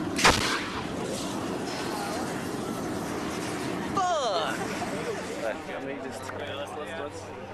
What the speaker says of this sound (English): we have a propane cannon explosion going off in this area